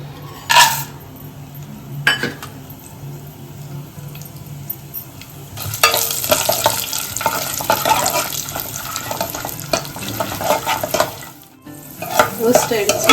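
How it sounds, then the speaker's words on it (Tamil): Nuts frying in hot ghee for carrot halwa, with sunflower seeds among them: a steady sizzle under the scrape and clink of a spoon stirring the pan, with a few sharper knocks and a louder stretch of stirring, close up. "இந்த நெய்யில் வந்து நட்ஸ் எல்லாம் வறுத்து எடுத்துட்டு"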